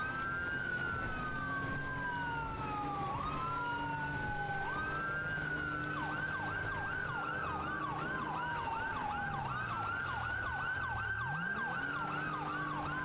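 A wailing police siren in the video game FivePD cycles through long sweeping tones, then shifts to a rapid yelp pattern, steady and fairly close, with a low engine drone beneath.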